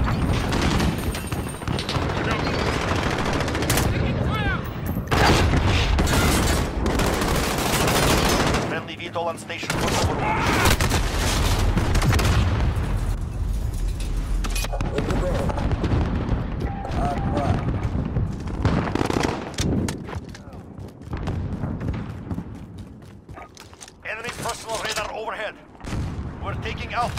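Call of Duty Modern Warfare Ground War battle, dense sustained bursts of automatic gunfire and heavy booms, loud and continuous with brief lulls, voices calling out among the shots.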